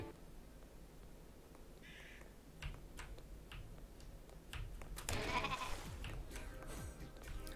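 A sheep in the video game Rain on Your Parade bleats faintly amid quiet ticking and clicking game sounds, with a louder burst of effects midway and no one talking.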